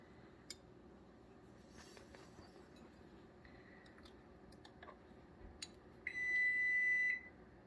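A kitchen oven sounds a sustained electronic beep about a second long once it finishes preheating, preceded by scattered soft clicks and light handling noises in a quiet room.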